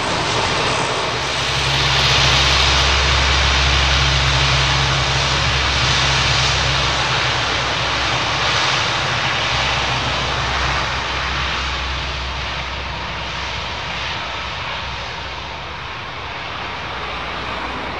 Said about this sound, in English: C-130 Hercules of the Portuguese Air Force. Old school props.